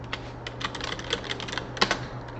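Fingers tap out blog post tags on a computer keyboard, a quick irregular patter of light clicks at close range with a few sharper keystrokes, no talking.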